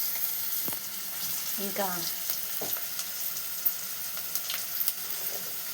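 Chili powder crackles and sizzles steadily in hot oil while a spoon stirs it in a pan, with soft scraping touches and a brief spoken word.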